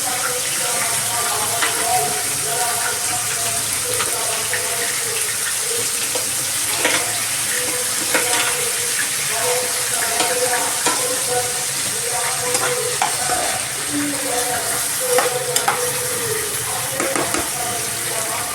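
Fish pieces lightly fry in a pan with a constant bright sizzle of hot fat, occasional stirring and scraping clatter on top, heard close up.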